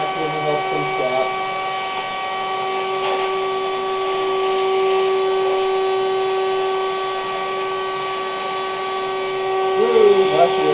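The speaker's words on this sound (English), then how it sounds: "Vacuuming up from scratch." A vacuum cleaner, powered by a car through a vehicle-to-home backup setup, runs steadily with a loud, constant motor whine and hum, while someone talks briefly at the start and end.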